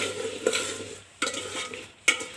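Potatoes are stirred in a pot with turmeric, chili powder and salt, a spoon scraping and stirring in three distinct pushes over a soft, steady sizzle.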